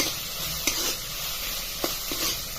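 Fresh grated coconut roasting in a pan for a green peas curry gives a steady, close sizzle, with a few soft spoon scrapes as it is stirred. No one speaks.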